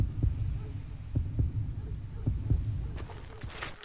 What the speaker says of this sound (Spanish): Cuando oigas los latidos, podrás desenfundar primero